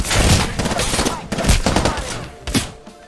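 Gunfire in the video game Apex Legends, loud close bursts of rapid shots in uneven clusters with short pauses, with a few sharper single cracks among them.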